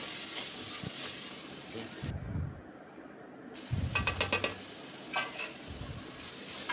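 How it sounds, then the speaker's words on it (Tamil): Ground spices including chilli and turmeric frying in oil in a pan, with a soft sizzle, brief muffled scraping and a quick run of clicking stirs. "இந்த மசாலாலாம் நல்லா எண்ணெயில் போட்டு பரட்டி எடுத்துக்கலாம் நம்ம"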